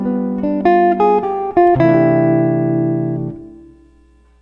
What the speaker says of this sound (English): Jazz musicians have language that outlines this chord progression, which could sound like this